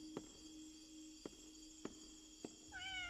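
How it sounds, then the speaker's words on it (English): A cat in a video game near a cafe among broken-down surroundings, with a few faint, evenly spaced ticks followed by a short rising meow at the end, over a quiet steady background tone. "Oh, it's a kitty."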